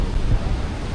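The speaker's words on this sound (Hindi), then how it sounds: "इतना तेज़ हवा चल रहा है, देख रहे हो।" Strong wind buffets the microphone outdoors, making a continuous low, rough rumble that roars close and steady for a moment, with no speech.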